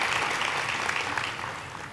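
Audience applause at a Chamber of Commerce diversity event, a steady, moderately loud wash of many hands clapping that tapers slightly toward the end.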